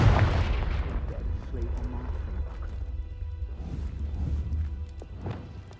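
In the Hogwarts Legacy video game, a Confringo spell detonates with a sharp, heavy blast at the start, followed by rumbling, crashing aftermath and scattered game sounds, with faint voices in the background.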